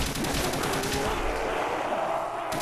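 Rapid gunfire rattles out while zombies are shot in Call of Duty: World at War, a dense burst of shots that thins out and fades toward the end.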